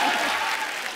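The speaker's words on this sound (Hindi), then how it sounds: "जोरदार तालियां" Loud applause from a studio audience greeting a guest singer on a comedy and music show, a dense burst of clapping that fills the short moment and tapers slightly at the end.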